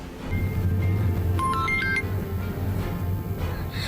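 A mobile phone rings with an incoming call in an Indonesian drama scene. A short, bright melodic ringtone burst plays over a steady low background music bed, with no talk.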